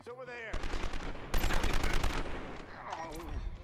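Gunfire in a police simulator video game: dense, loud bursts of rapid shots that roll across most of the moment, over a busy game soundtrack.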